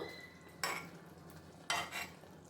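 Eggs being turned over in a pan of simmering egg curry: two short scraping, sizzling strokes of a spoon against the pan, close and distinct against a quiet bubbling background.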